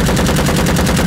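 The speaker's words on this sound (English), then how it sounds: "So let's just keep dumping rounds." Automatic rifle fire in the Vietnam War shooter Rising Storm Vietnam, a loud, close, unbroken stream of rapid shots in an even rhythm, roughly a dozen rounds in just over a second, with no voices.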